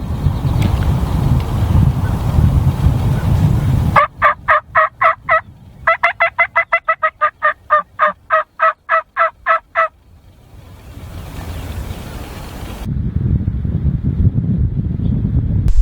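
Wild turkeys gobble near decoys during a hunt, a rapid series of loud, rattling calls repeated in quick bursts over several seconds, with gusty wind noise on the microphone before and after.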